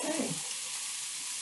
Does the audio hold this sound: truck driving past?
no